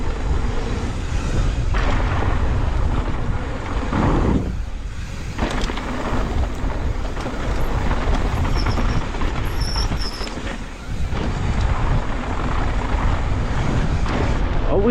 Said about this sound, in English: Always windy through here.